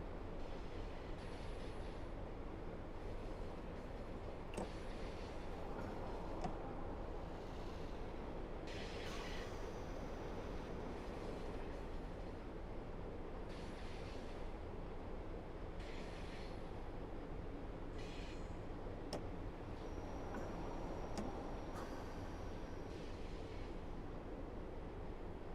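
A simulated train in the Train Sim World 6 game runs toward Newton Abbot station with a continuous low rumble of wheels and motor, broken by occasional higher clanks, squeals and hisses, steady and moderately quiet throughout.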